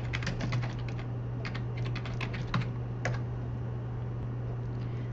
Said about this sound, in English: You can either type the author's name this way